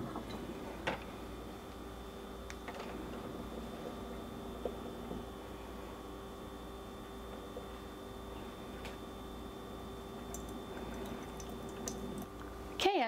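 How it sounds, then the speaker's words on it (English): Keurig K-Supreme coffee maker brewing plain water into a cup during cleaning, a steady hum with soft trickling and faint ticks, continuous and close. "Let it fill up the cup, empty it out"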